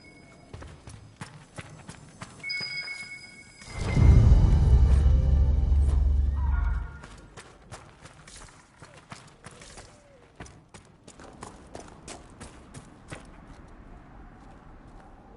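Horse hooves clip-clopping in the video game Dragon Age Inquisition, a purebred Ferelden Forder chestnut, steady mid-distance steps beneath background game sounds and a loud low swell partway through.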